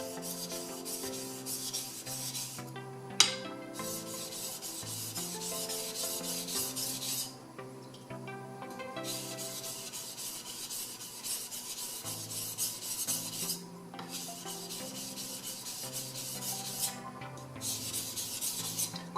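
Usuba kitchen knife being sharpened in long, repeated rasping strokes with brief pauses between passes, quiet and close, with no talking.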